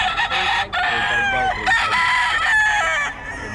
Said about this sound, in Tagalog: Maganda ng mga manok ni Boss Batang.